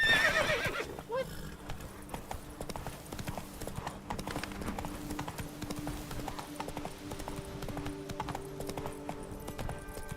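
Horse hooves clip-clop at a steady gallop in The Witcher 3, with a horse whinnying near the start, over continuous game music and ambience.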